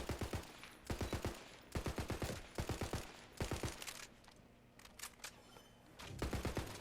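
An SMG in Tiny Tina's Wonderlands fires in several short automatic bursts of rapid, punchy shots, separated by brief pauses, loud and close with no speech.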